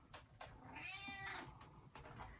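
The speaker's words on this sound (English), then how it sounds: "my cat is telling me it's time to feed her" A pet cat meows once, a drawn-out rising and falling call close to the microphone, framed by faint household knocks and rustles in a quiet room.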